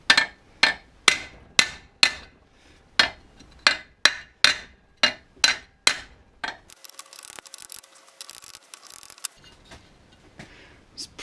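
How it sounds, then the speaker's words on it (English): A small hammer strikes a metal front suspension part on a Sylva Stylus car, about a dozen sharp ringing blows at a steady pace, then lighter scattered taps and scraping. "a small hammer appears to work better than a big one"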